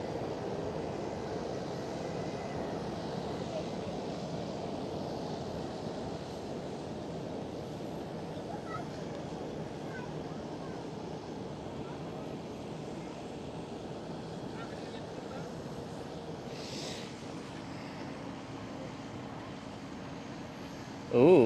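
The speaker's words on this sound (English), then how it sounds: "Again, A321neo." Airbus A321neo airliner at Schiphol, a steady distant engine roar with broadband rumble holding evenly throughout, faint and far off, with a brief louder bump at the very end.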